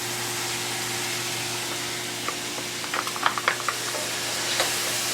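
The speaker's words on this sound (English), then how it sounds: "you're going to saute the rest of it with your chopped onions" Chopped onions sauteing with browned chicken in a pan, a steady sizzle with scattered crackles and a few stirring clinks over a constant background hum.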